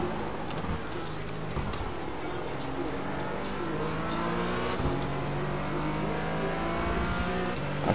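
A Porsche Cayman GT4 engine at full throttle in iRacing at Hockenheim, holding a steady high-pitched howl that climbs through the revs, close and sustained, with faint tire noise underneath.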